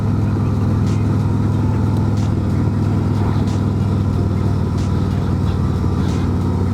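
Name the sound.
2024 Harley-Davidson Road Glide motorcycle engine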